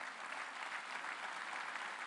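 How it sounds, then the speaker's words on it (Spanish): Steady applause fills a national constituent assembly hall, a dense continuous wash of many hands clapping at an even level throughout, with no voices standing out. "Yo quiero darle un aplauso a estos dobles constituyentes"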